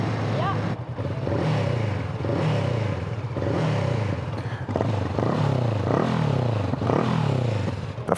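A motorcycle engine revs repeatedly, rising and falling in pitch with rough rhythmic pulses, close and loud, with occasional crackling pops from the exhaust.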